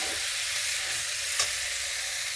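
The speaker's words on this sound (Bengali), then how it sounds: "আলু ফুলকপি মশলার সাথে ভালো করে আরও কিছুক্ষণ ধরে আমি কষিয়ে নেব" Potatoes and cauliflower sautéing in a pan with ground spice paste, a steady soft sizzle with one brief scrape or clink midway, no voices.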